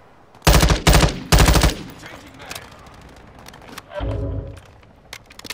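Loud automatic gunfire in Modern Warfare 2 comes as three rapid, punchy bursts at close range, followed by quieter clattering, a low thump, and scattered small clicks.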